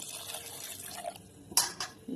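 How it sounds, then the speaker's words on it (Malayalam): A short, close pour of water into a pressure cooker with light splashes and a brief louder gush near the end. "ഉപ്പിട്ടിട്ട് വെള്ളം കൂടി ഒഴിച്ചു കേട്ടോ ഒരു വേവാനുള്ള വെള്ളം കൂടി"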